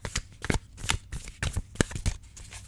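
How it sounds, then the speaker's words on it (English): A deck of Tarot of Pagan Cats tarot cards being shuffled by hand, with crisp riffling bursts and soft slaps coming in a steady irregular rhythm, close and clear, with no talking. "So this is how I shuffle."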